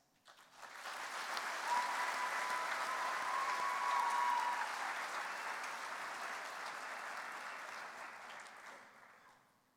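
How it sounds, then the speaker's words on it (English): A large convention audience at the Kansas FFA Convention applauds in a long, even wash of clapping that rises quickly, holds steady, then gradually fades, sounding somewhat distant and soft. "Please join me in a round of applause for Caitlin's administrators,"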